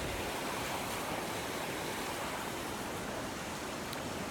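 A flooded creek rushes past a footbridge, the water about 4 inches below the bridge and spilling over a backyard, making a loud, steady, unbroken roar of churning water.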